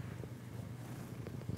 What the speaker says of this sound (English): He won't stop purring.